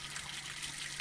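Steady, soft rush of water draining from the hot water tank of an ERA camper van being winterized with its vent open, a continuous trickling flow heard alone.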